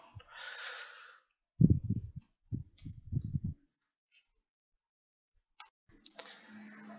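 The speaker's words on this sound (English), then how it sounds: "bear with me as I type this out" Typing on a computer keyboard while filling in a GitHub page: irregular clusters of close, soft clicks in short bursts, separated by pauses and quiet stretches.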